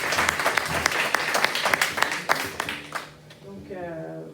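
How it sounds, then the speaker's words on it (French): A congregation at a youth Sunday service applauds, dense clapping with sharp individual claps that fades out near the end as a voice begins speaking. "donc je vous demande de l'applaudir"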